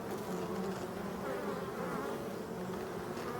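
Honeybees foraging in mid-October around midday make a dense, continuous buzzing hum, close and steady, with no voices.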